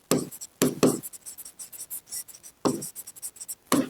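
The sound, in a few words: writing a math solution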